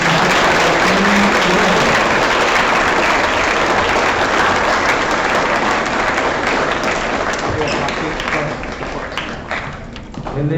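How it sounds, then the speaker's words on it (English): Sustained, loud applause from a crowd at a school awards program, a dense roar of clapping that carries on for several seconds and thins toward the end. "If you could give them a round of applause"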